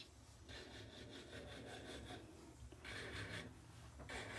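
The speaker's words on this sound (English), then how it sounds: "I'm letting the drill bit do the work." A steady, gritty grinding buzz of an electric nail drill filing fingernails with light pressure, in repeated passes with brief pauses between.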